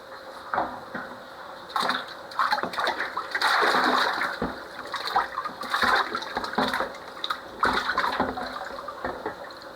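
Chicken pieces being washed in water in a kitchen, with repeated splashing, sloshing and running water in irregular bursts, fairly close and moderately loud.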